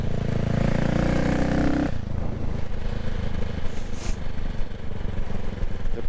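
A motorcycle engine runs while riding, a loud low rumbling tone that drops away abruptly partway through into a rougher, wind-buffeted rumble as the bike slows.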